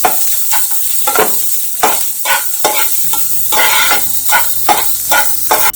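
Cashews and chopped onions sauté in sesame oil in a kadai, with steady sizzling and repeated scraping stirs of a spatula, close and loud with no talk.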